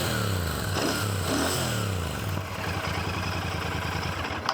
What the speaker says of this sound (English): no review on the piston show is complete without letting you hear how the bike sounds like.